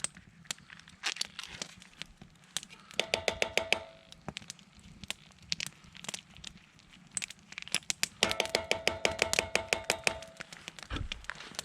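Peanut butter, sriracha and peanuts are mixed for a camp duck pad thai, heard as close bursts of rapid scraping, crinkling clicks in quick rhythmic runs between quieter pauses.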